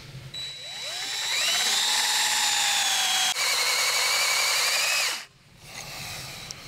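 A power drill bores into a cast iron piece, its motor whining up to a steady high pitch under load, then cutting off abruptly, followed by a quieter spin-down.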